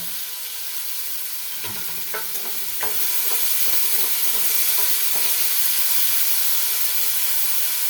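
Salt, green chilli and tomato fry in a pan for a leftover chapati poha, a continuous bright sizzle and hiss punctuated by a series of scraping stir strokes, the frying growing louder partway through.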